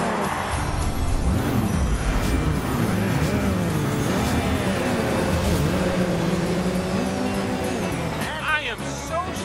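Racing cars in a battle race in the video game Cars 3: Driven to Win, engines whining and shifting pitch as they speed along, set under almost constant commentary with music and effects in the mix.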